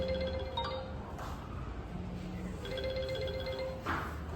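A phone rings in a short Balinese film scene, with repeated electronic tone bursts sounding twice over a quiet room background.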